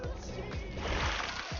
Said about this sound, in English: the gravity check kicks in and slams me to the ground, as into the water.